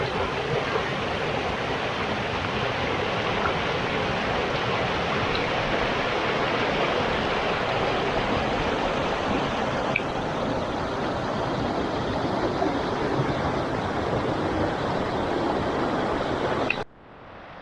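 Steady broadband rush of Hayes Creek flowing in the Shawnee National Forest, continuous and close, with no voices, cutting off abruptly near the end.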